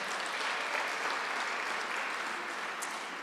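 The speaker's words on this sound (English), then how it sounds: "Please give a round of applause for Ted again." A morning audience at a chorus event applauds a performer named Ted, a dense, even wash of many hands clapping that holds steady at a fairly loud level throughout, with no voices standing out.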